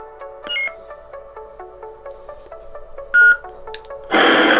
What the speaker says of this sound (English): And the second beep will indicate the font change.